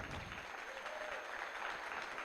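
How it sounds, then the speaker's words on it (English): Audience applause at a Canadian Charolais youth cattle showmanship event, a steady wash of clapping sounding fairly distant and soft and lasting throughout. "let's be sure to give them a big round of applause."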